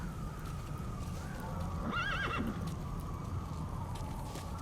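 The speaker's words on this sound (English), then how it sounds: "The horse here." A horse neighs once in MGS V: The Phantom Pain, a loud whinny rising and falling over steady clip-clop hoofbeats and a continuous rumbling game ambience.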